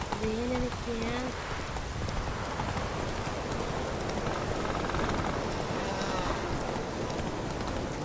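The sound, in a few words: rain in video game The Witcher 3: Wild Hunt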